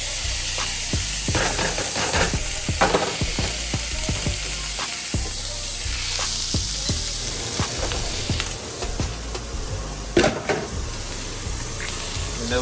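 Bacon frying in a cast iron skillet: a steady, close hiss of sizzling fat, broken by frequent sharp pops and crackles that keep going throughout.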